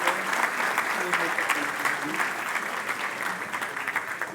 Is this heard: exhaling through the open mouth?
no